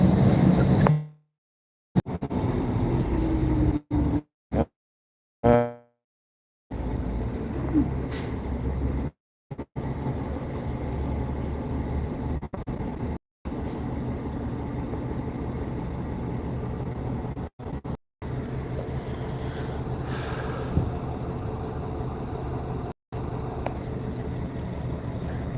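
A city bus rolls along with a continuous low road rumble and engine drone, broken by several abrupt cuts and a short hiss like an air brake, with faint rain-storm weather around.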